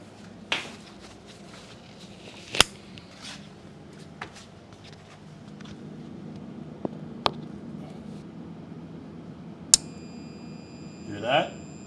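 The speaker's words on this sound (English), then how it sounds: "That was the sound of the overload clicking off." Overload relay on a trash-picked Whirlpool refrigerator compressor clicking off, heard as a few sharp, isolated clicks spaced several seconds apart over a low, steady background hum.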